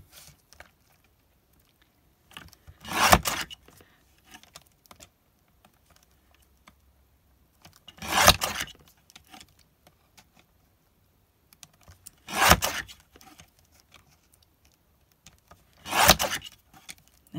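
Four separate cutting strokes slice through DIY sticky silver strips, each a short close rasping scrape spaced several seconds apart, with quiet, near-silent gaps between them.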